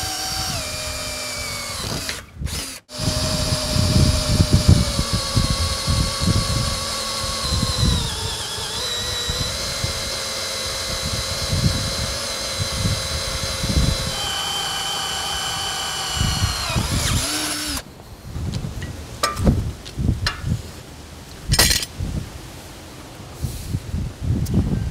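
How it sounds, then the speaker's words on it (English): A handheld power drill whines loudly as it bores into the steel saw head beam of a bandsaw mill, pitch sagging under load and rising again, then choppy grinding bursts toward the end. "I'm just going to drill them out here with the hand drill"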